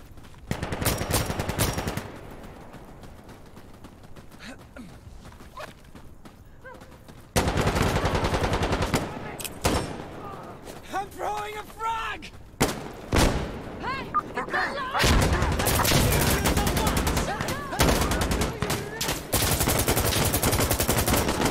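Sustained AK74 automatic rifle fire in the game Insurgency: Sandstorm comes in loud, dense bursts across most of the stretch, with shouted voices heard between and over the volleys.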